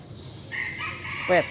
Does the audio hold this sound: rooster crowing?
yes